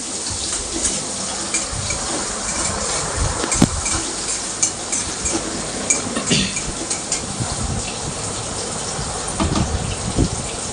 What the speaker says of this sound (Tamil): வெங்காயம் வத்தல் காரத்துக்கு தகுந்த மாதிரி ஒரு நாலு வத்தல் போட்டுட்டு நல்லா வதக்கிடணும்